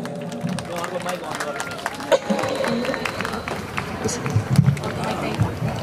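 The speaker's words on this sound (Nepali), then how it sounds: "प्लिज उहाँको लागि जोड ताली बजाइदिनु होला" Audience clapping for a senior singer at a Nepali stage show, a steady scattered applause mixed with crowd murmur and a few sharp louder claps near the end.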